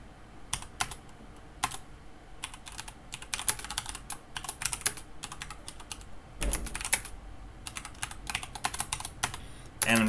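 Computer keyboard typing as code is entered, with irregular bursts of keystrokes and short pauses, close and clear with no talk.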